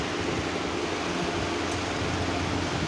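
A repaired pedestal fan with new motor bushes runs smoothly, giving a steady, even whoosh of airflow and a low motor hum with no rattling or knocking.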